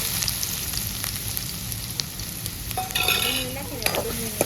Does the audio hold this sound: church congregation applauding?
no